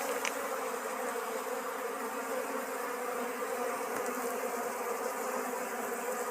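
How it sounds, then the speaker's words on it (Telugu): A swarm of wild honeybees humming steadily up close at a forest hive, an unbroken buzzing drone with no voices. "ఇదండి తేనెటీగలు అయితే లోనికి ఈ విధంగా ఉన్నాయి చూసారా"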